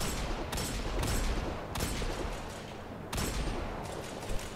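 Gunfire in the sci-fi shooter Destiny 2: several sharp, booming shots land at irregular intervals over a dense, rumbling wash of game sound, fairly quiet overall.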